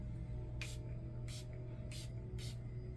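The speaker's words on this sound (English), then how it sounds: "You always want to shake this mist before you apply it." A hinoki wood facial mist bottle sprays four short, crisp hissing bursts at uneven intervals, close by over a low background hum.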